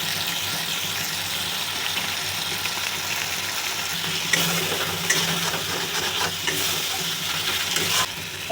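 A little water goes into a pan of frying ghugni spices, and the hiss and bubbling swell over the steady sizzle while the mixture is stirred close by.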